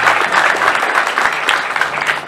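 Wedding guests applaud in a short burst of close, lively clapping with scattered individual claps standing out, no talk over it.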